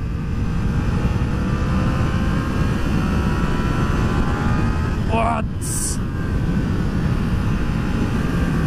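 Yamaha MT-03 motorcycle engine pulling in first gear, a loud continuous buzzing drone with steady engine harmonics under heavy wind noise, while a rider briefly speaks over it.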